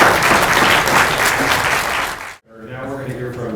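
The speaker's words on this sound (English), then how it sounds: "Let's have a round of applause for" An audience at a morning science conference session gives a round of applause, a loud dense burst of clapping that cuts off abruptly near the end, followed by quieter room noise.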